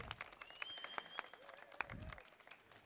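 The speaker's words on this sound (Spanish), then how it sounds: "Y bueno, un aplauso" Scattered hands clap at a literary dialogue event, a faint, distant patter of individual claps with irregular rhythm, mixed with soft murmuring voices.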